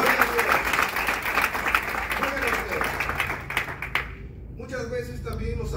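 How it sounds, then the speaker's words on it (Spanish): A church congregation breaks into strong applause for the Lord, a dense, sustained clapping with crowd noise that thins out near the end as a voice begins speaking. "¿Pueden dar un fuerte aplauso al Señor?"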